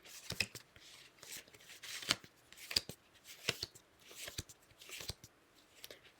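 Tarot cards shuffled and handled close up in a quiet room, giving a run of crisp, irregular papery riffles and taps with short pauses between them, with no talking.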